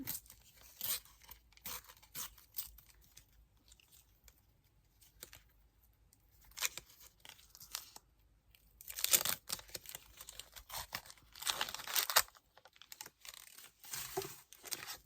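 Panini Disney sticker packets being torn open one after another, crisp crinkly paper rips and rustling arriving in irregular bursts with quiet gaps between, close and fairly soft, with no talking.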